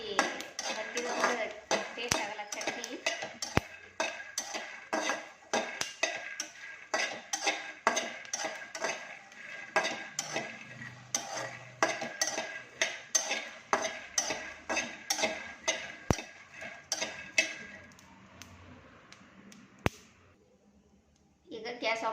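Peanuts being dry-roasted in a pan for North Karnataka-style peanut chutney, stirred steadily with a spoon in rapid, rhythmic metallic scrapes and rattles, close and continuous, easing off near the end.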